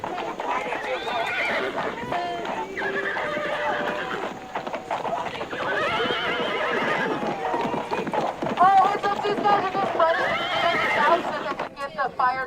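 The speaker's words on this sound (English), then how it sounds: "don't be bringing the horses into that shit" At an ICE protest on a marijuana farm in Ventura, horses whinny and neigh repeatedly while hooves clip-clop among the loud, crowded shouting and chatter of the protesters.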